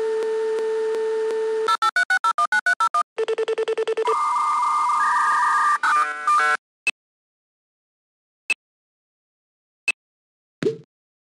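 A 1998-era 56k dial-up modem dials out and handshakes with an internet provider: steady dial tone, rapid tone-dial bursts, then screeching warbling negotiation tones, loud and continuous, ending in a few isolated clicks and beeps.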